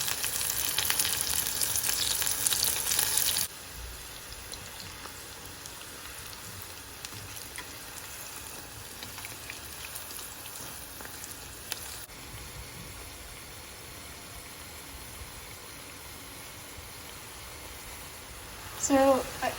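Mushrooms frying in oil at about 170-180 C in a wok over high heat for a chilli mushroom stir fry, a steady close hiss and sizzle that runs throughout, louder at the start, with someone talking over it.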